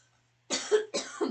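Two close, loud coughs come in quick succession after a moment of near silence.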